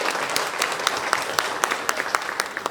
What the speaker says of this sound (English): A big round of applause for Ajay.